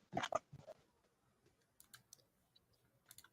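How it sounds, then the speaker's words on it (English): A computer keyboard tapped in a few quick bursts, with a louder cluster of clicks at the start, then sparse faint keystrokes spread over the remaining seconds in a quiet room. "Ooh, keyboard noises."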